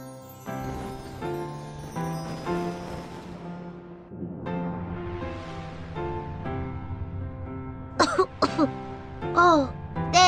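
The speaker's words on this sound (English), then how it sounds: "you're coughing because of the smoke" Person coughing repeatedly from smoke in polluted air, a series of harsh close coughs and throat clearing set among other voices, with children talking near the end.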